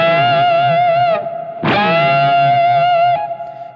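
Distorted electric guitar playing the opening of the solo, a sustained bent lead note with wavering pitch, a brief dip and a sharp pick attack, then another held, effect-laden tone.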